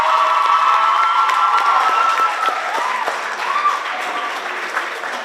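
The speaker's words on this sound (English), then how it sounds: "Let's give her a round of applause." An audience at a school robotics challenge applauds and cheers, with dense steady clapping mixed with shouted voices and children's cheers, loud and close, tapering slightly toward the end.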